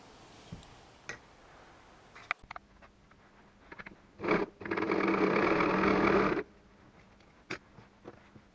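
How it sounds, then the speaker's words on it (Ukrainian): Sewing machine chain-stitching patchwork squares: scattered small clicks and fabric handling, then a short burst of stitching followed by a steady two-second run of rapid mechanical whirring at close range, ending in a few light taps. "Шию по ланцюжку всі квадратики, а потім розрізаю їх по цій лінії."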